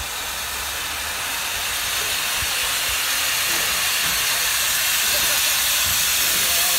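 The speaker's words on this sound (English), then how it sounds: "You get the genuine chucking sound with it." Steam locomotive Taw Valley working on a heritage railway, giving a steady, loud hiss of steam with a continuous roar of the train close by and no distinct individual chuffs standing out.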